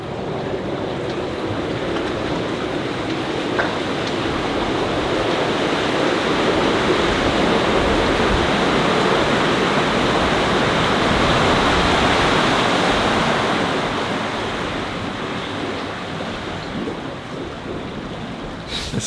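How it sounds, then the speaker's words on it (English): Steady, smooth rush of water pouring into a river lock chamber on the Tennessee River, churning continuously like a broad flow, holding an even level throughout with no voices. "listen to the sound of the water coming up"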